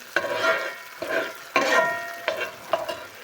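Tomatoes and vermicelli sizzle in a pan while being stirred, with several sharp scraping strokes over a steady frying hiss and no talking.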